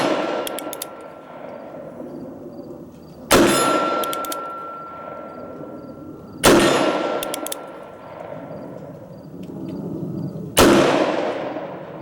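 Standard Manufacturing single-action revolver fired at a range, three sharp loud shots spaced a few seconds apart, each with a ringing decay, over a steady low background hum.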